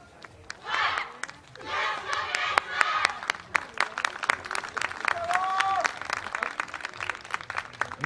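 Crowd applause and cheering at an outdoor YOSAKOI dance festival performance in Omigawa, dense clapping and shouts rising in bursts, with a whistle-like tone and voices mixed in.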